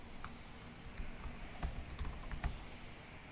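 Keys clatter on a laptop keyboard while an email address is typed, a quiet, close, irregular run of soft taps with a few sharper clicks.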